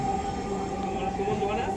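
Steady hum and whine of a Dhaka metro rail train running, a sustained tonal drone over low rumble, fairly faint and brief.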